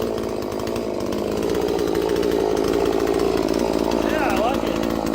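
A Holzfforma G466 chainsaw runs steadily at high revs under load, a loud continuous buzzing drone that holds throughout, close by, with no talking over it.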